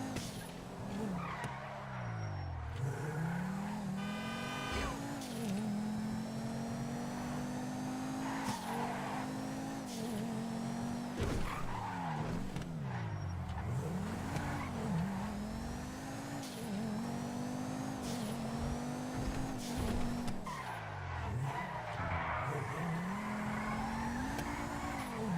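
A car driving and skidding in GTA Online, engine revving up and down in repeated cycles with tire squeals and skids throughout, steady and close with no voices.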